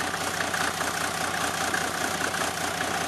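A Mercedes diesel car engine running on vegetable oil idles steadily with a low, even rumble, no voices present.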